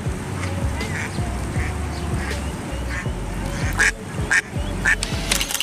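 A duckling quacks repeatedly in short bursts, close and loud, over splashing water and rustling, as a turtle attacks it.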